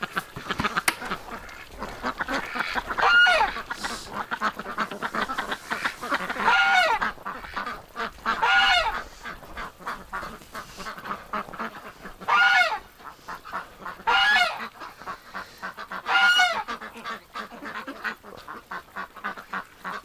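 Ducks quacking outdoors on a bright winter day, with repeated loud bursts of quacks at close range coming every few seconds over a steady outdoor background.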